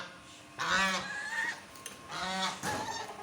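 Farm ducks kept as watchful guards on a livestock farm let out two loud bursts of raspy, goose-like honking, close by, with quieter pauses between.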